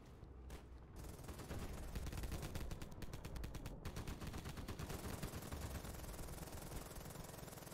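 Rapid automatic gunfire in the mobile game Battlefield Mobile rattles in long sustained bursts, dense and aggressive, with brief gaps near the start.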